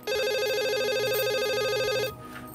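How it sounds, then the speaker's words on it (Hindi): An electronic telephone rings in a rapid warbling trill, loud and close, lasting about two seconds before it cuts off into quieter background in a Pakistani drama scene. "फोन उठाओ, तुम्हारे अब्बू का फोन होगा।"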